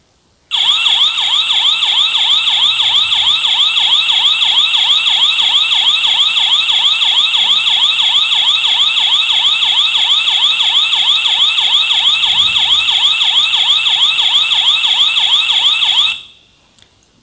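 A loud electronic siren tone from a motion sensor doorbell wails continuously in a rapid rising-and-falling pattern, steady for about fifteen seconds before cutting off abruptly.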